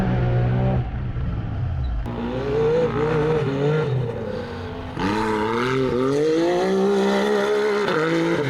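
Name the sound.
UTV racing past at Little Sahara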